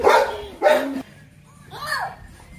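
Dogs bark and yip in a film scene, two sharp close barks followed by a higher whimpering call, with faint background sound between them.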